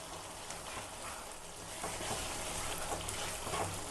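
Steady, close sizzle as palak spinach is stirred into chicken curry frying in a pan, a continuous hiss with faint scraping that swells slightly in the second half.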